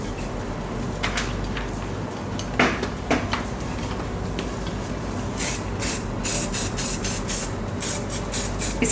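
Hairspray misted onto a braided headband hairstyle, several short close hissing bursts in a row over a quiet room with light handling noise.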